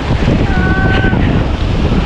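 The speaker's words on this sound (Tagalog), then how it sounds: "ito yung karagatan guys na makikita nyo dito sa Patar Beach" Loud ocean surf rolls at Patar Beach, a white-sand shore in Bolinao, Pangasinan, with strong wind buffeting the microphone in a constant roar, a faint brief whistle-like tone passing through.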